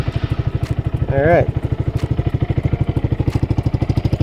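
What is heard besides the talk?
Honda Grom motorcycle engine running through $70 exhaust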